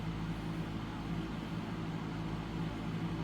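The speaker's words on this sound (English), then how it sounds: "You'll have to pardon the fan noise." A room fan and an air purifier running together give a steady, faint broadband whoosh with a low hum, constant and unchanging throughout, with no one speaking.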